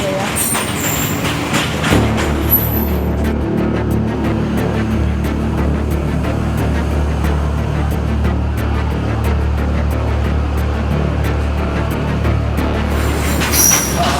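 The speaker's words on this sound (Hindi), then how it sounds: "पटरी पर गुजरती हर रेलगाड़ी अरुणिमा के दर्द और जख्म को ताजा कर देती है।" A train rolls along a railway track nearby, a loud continuous rumble with clattering wheels and squeal, steady throughout with a sharper burst at the start.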